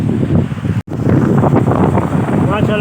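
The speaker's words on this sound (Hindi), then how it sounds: "ठंडी ठंडी हवा चल रही है" Cold wind gusts steadily across the microphone at a mountain base camp near Ratti Gali lake, where snow lies on the ground, a loud broadband rush interrupted by one brief dropout.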